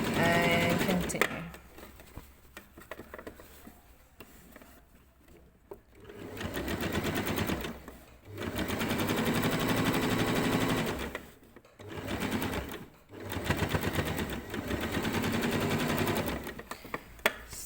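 A sewing machine stitching a thick waistband onto summer shorts, running in several loud, steady whirring bursts separated by short pauses, with brief talk at the start.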